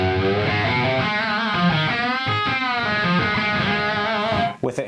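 An electric guitar plays through a delay with the modulation switched off, sustained distorted chords and notes ringing continuously and loud, with a brief break near the end.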